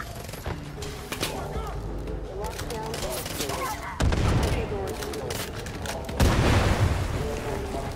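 Gunfire in Far Cry 5 co-op play, with bursts of shots and heavy booming impacts that build to louder volleys near the end, set against game music and ambience.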